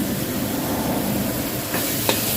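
Chilies fry in a pan for stir-fried stink beans with minced pork, a continuous close hiss and sizzle with faint stirring, and a couple of brief knocks near the end.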